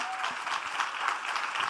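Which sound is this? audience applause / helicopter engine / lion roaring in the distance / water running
audience applause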